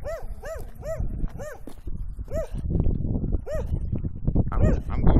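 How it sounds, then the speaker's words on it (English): Repeated sharp dog barks, about eight of them in uneven bursts, loud and nearby, mixed with rumbling handling noise and some background voices. "Look, there's dog again."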